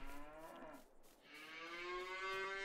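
Cows in the farming video game Farming Simulator 22 give a long, drawn-out moo that dips briefly before swelling again, loud and close with no talk.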